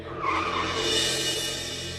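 A car's tires skidding under sudden hard braking, a loud, continuous screeching rush lasting about two seconds, close by and with no talking.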